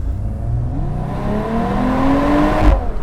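A 2025 Mercedes-AMG CLE 53 convertible revs its exhaust close by, and the engine note climbs steadily and loudly. No voices are heard.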